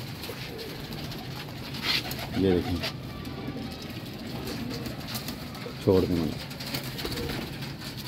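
Slate-grey pigeons kept in a coop give a couple of short cooing bursts over a steady ambient hiss, while someone talks nearby.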